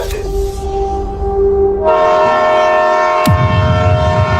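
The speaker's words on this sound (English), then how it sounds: "The train is coming." A train approaching along a railway track, its horn sounding in a loud sustained blare, with rumbling and a rising clatter as it draws near.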